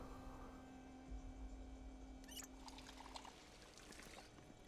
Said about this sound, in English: Gotta fill my water bottle.